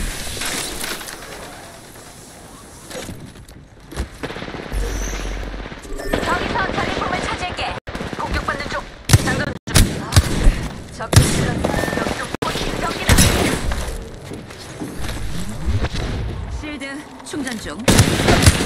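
Enemy gunfire in a video game, with bursts of shots and sharp cracks popping up through a busy, loud mix of game noise, while a voice talks over parts of it.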